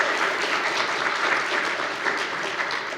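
A live audience at a ReasonFest 2014 talk applauds steadily for a student organizer, a dense, even wash of clapping from many hands throughout, with no talk over it.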